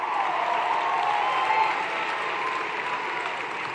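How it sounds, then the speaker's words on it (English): Sustained applause from a crowd at a Bernie Sanders 2020 caucus concert rally in Cedar Rapids, steady and dense throughout with no clear break, as if the whole hall keeps clapping. "One more round of applause for the Congresswoman Pramila Jayapal, Ilhan"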